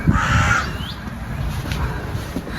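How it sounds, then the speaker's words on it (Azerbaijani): Crows caw loudly nearby on a mountain walk up stairs, a harsh call at the start followed by fainter bird calls over an outdoor background. "Quşların səsini eşidirsiniz."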